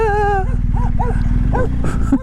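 A small dog on a bridge gives a series of short, high yips and whimpers close by, over a steady low background hum, ending with a brief sharper sound.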